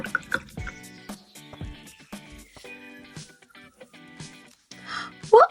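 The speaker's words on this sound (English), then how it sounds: "Let's wash our mucky brush" A mucky paintbrush swished and rinsed in a pot of water during a kids' painting activity, soft drips and light watery splashes, close and fairly quiet, ending in a brief louder slosh.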